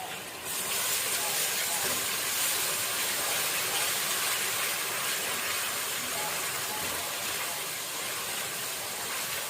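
Ginger garlic paste sizzles in a hot pan for an aloo matar chicken dish, a loud, steady hiss that starts abruptly and holds throughout.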